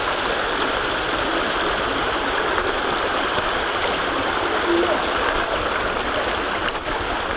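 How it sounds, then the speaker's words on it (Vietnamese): A mountain stream in a highland area rushes steadily over rocks as a group crosses, a continuous, loud and close water roar with no talk audible. "Đây mình phải vượt qua một con suối này."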